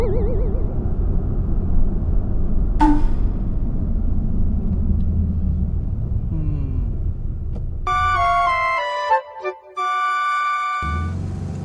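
Old car driving along a road with a truck ahead, steady low engine and road rumble throughout, broken by a brief electronic chime and a run of beeping alert tones near the end.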